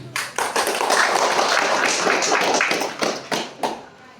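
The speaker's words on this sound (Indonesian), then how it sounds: "Mari kita memberikan aplaus" An audience at a candidate debate applauds after candidate 02's presentation, a brief burst of steady clapping that swells, holds, then breaks into scattered claps.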